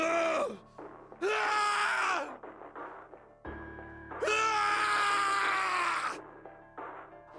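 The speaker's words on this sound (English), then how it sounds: "His scream echoed through the incineration chamber, full of rage and despair" A voice screams in rage inside an incineration chamber in a video game, two long anguished cries with shorter strained groans and grunts between them, loud and close.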